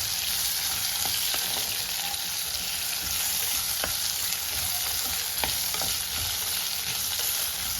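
Chopped mango fries in hot oil in a pan for a Kerala-style mango curry, a continuous close sizzle with occasional scraping stirs and no talk.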